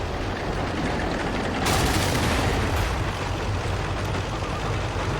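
Battle noise in a tank combat game around a Type 4 Chi-To tank, a steady rumbling din with one sharp loud shot cracking out, followed by fainter distant reports and no talking.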